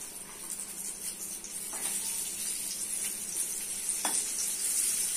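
Chopped onions fry in soybean oil with a steady close sizzle that grows slightly louder, broken by a few faint clinks of stirring.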